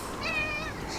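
An excited cat lets out a single loud, drawn-out meow close to the listener, rising and then falling away within about a second.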